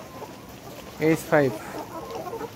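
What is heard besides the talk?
layer hens clucking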